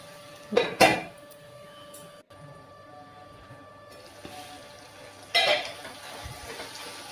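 A metal lid clatters onto a cooking pot of brinjal curry in two short, close clanks separated by several seconds of quiet kitchen hum.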